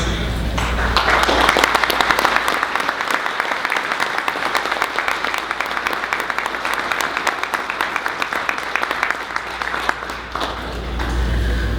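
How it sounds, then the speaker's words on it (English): Sustained applause from a summit audience, dense clapping that carries steadily for about twelve seconds before tapering slightly near the end. "let's give them a round of applause"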